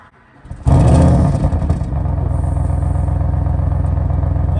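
An Audi RS6 engine starting up and idling: a sudden loud roaring burst as it fires, followed by a steady deep rumbling idle, very close and loud with no talk.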